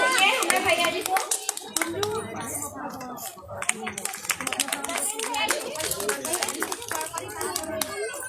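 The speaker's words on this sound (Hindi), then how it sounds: "भैया जी के सम्मान में तालियां बजाइए, तालियां में कमी नहीं होगी।" An audience of children and adults claps at a Republic Day dance event, a dense patter of hands that keeps going while people talk loudly over it.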